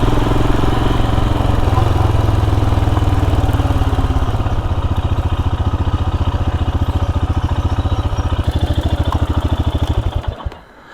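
Motorcycle engine running close by with a loud, steady throb that slows into a rhythmic lumpy pulse, then cuts out at the end, while the rider looks for a place to park near Bolingbroke Castle.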